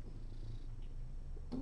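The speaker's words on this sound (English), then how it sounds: "Are you purring?" A young kitten with ringworm purrs softly and steadily up close, a low continuous rumble that runs the whole time, with a brief faint vocal sound near the end.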